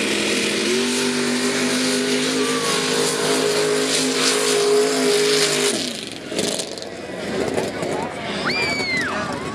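A truck engine at a Kansas mud run holds a loud, sustained high rev for several seconds, then cuts off and drops away, leaving crowd noise and a few whistles over a rough outdoor background.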